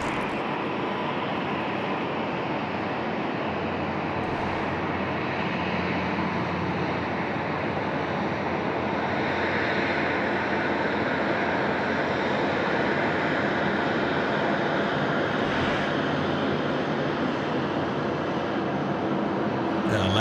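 An airliner rolling for takeoff at Sydney Airport: a steady, loud, broad engine roar that holds without a break, with a faint low hum beneath and distant outdoor ambience.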